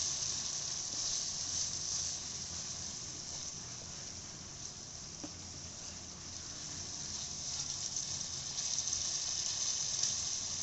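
Fish curry masala frying in hot oil for a spiced poa fish dish: a continuous, even sizzle and hiss that holds steady throughout, close and moderately quiet, with no speech.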